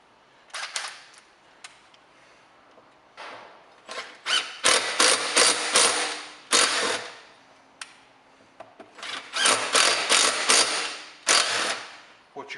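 A ratchet clicks in several bursts of rapid strokes, separated by short pauses, while self-tapping bolts are driven in to thread three holes in a Tecumseh lawn mower engine flywheel. The sound is close and crisp.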